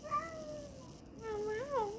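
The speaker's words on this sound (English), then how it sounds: "Can you say meow meow?" A cat meows in a few drawn-out, wavering calls, close and fairly soft, with no talking over it.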